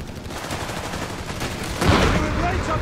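MG42 machine gun fire in the Company of Heroes 3 battle game, dense distant rattling bursts under steady battle noise that swells louder near the end.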